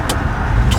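Steady car engine pulling hard at about 4,000 RPM in second gear, a dense low drone heard from inside, with two brief high hissy bursts near the start and end.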